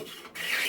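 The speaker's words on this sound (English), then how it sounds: "So we'll just take a few shavings there." Hand plane taking a shaving from soft southern yellow pine: a brief, close rasping stroke that breaks off for a moment and then resumes as a brighter, hissing scrape.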